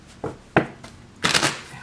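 Tarot cards being shuffled by hand, heard as a few separate riffling bursts: two short ones early, then a longer, louder flurry near the end, close and with no talking.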